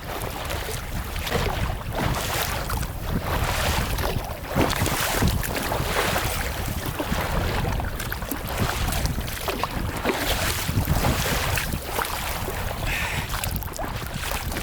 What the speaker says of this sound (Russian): В открытом море опять волна, опять ветер.